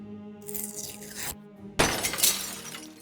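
Glass windows shatter twice in the video game Deponia Doomsday, a first loud crash with tinkling fragments, then a brief gap and a second, sharper burst of breaking glass that rings out and fades.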